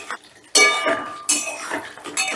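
Chicken being stirred and sautéed with spices in a kadai for a Shahi chicken kadai: a spoon scrapes and clinks against the metal pan in a few sharp bursts, close up, with a soft sizzle underneath.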